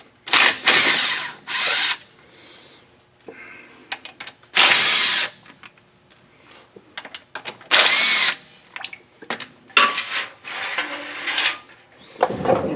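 Power drill or impact tool spinning out the four 10 mm bolts on the transmission filter of a 2018 Toyota Tundra with the pan removed, with several loud, close bursts of whirring separated by quieter clicking and handling noises.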